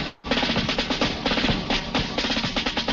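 A country song about the Miami Dolphins, full band with steady strummed and drummed rhythm playing continuously and fairly loud, without talk over it.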